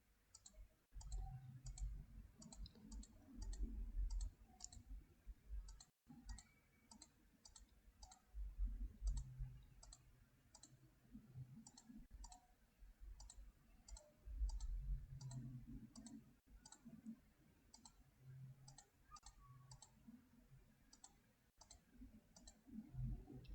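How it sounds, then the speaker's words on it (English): Mouse clicks while working in a digital image editing program come as quick light clicks in short bursts, repeated steadily throughout, over faint low background hum with occasional soft thumps. "I'll just continue clicking into the inside of each one."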